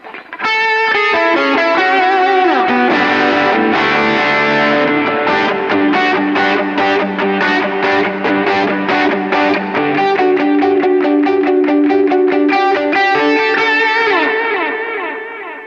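An overdriven electric guitar on its bridge pickup plays chords and picked notes with echoing delay repeats trailing behind, loud and sustained throughout.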